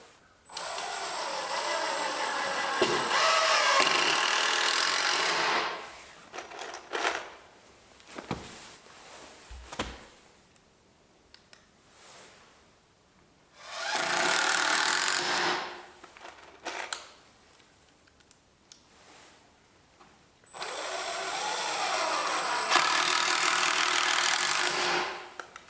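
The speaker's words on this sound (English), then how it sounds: "Time to get some screws into these joints so it locks it in better." A power drill drives screws into the joints of an affordable mobile workbench, sounding in three loud, sustained whirring bursts separated by quieter pauses with small knocks and handling noise.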